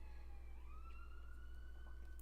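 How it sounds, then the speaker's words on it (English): Distant sirens wail outside at night, a steady rising and falling tone from emergency vehicles heard faintly over a constant low hum, with no talking. "More sirens."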